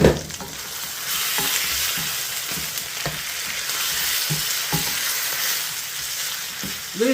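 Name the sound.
chicken and garlic sizzling in a pan for adobo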